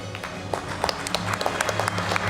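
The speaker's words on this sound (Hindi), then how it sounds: "जोरदार तालियां" Applause from a crowd at an Indian car and motorbike awards ceremony, individual claps popping out over a steady low hum, moderately loud and sustained.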